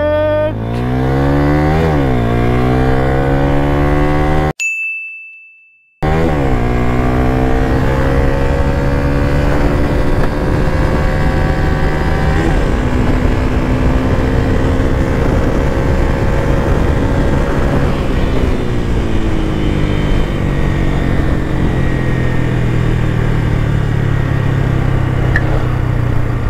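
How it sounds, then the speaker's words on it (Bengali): A loaded Yamaha FZS motorcycle accelerates hard from standstill, its engine rising in pitch through several gears with brief dips at each shift, loud and close, with a short cut-out near the start and no speech. "0 to 100 উঠতে বাইকটা কতক্ষণ সময় লাগে"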